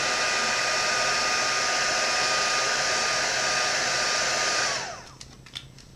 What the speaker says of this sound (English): And then I just move my heat gun down.